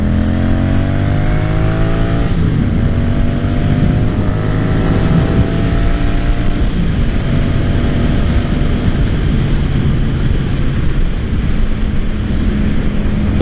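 A Honda Silverwing GL500 motorcycle out on the road gives a loud, close engine drone, its pitch rising and falling through gear changes, over constant rushing wind.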